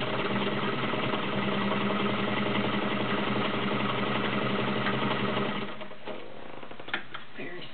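Kenmore Model 33 heavy-duty sewing machine running a zigzag stitch, a steady close whirring hum for several seconds before the motor slows and stops, leaving a few faint clicks.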